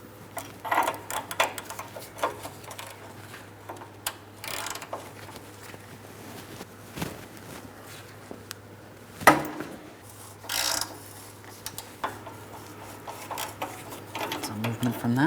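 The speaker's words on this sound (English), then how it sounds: "We're going to be turning it counterclockwise to remove it." Ratchet loosening a downstream oxygen sensor on a 2003-2007 Cadillac CTS 3.6L V6, giving soft, sparse clicks and metallic knocks over a steady low hum, with one sharper clack midway.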